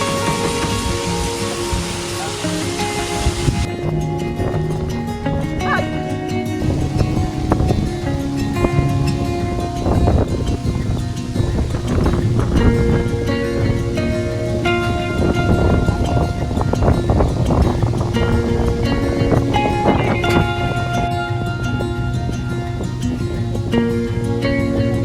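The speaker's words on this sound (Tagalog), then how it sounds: "Lakas ng hangin." Strong wind buffets the microphone outdoors beside a bamboo hut, a steady loud roar with gusting rumble throughout, no speech heard.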